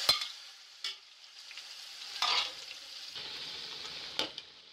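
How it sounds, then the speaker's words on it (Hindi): Chicken browning with ginger garlic paste in a pan gives a soft, continuous sizzle, broken by a few louder clanks of stirring at intervals. "आप चिकन शामिल कर दीजिए और चिकन को थोड़ा ब्राउन कीजिए"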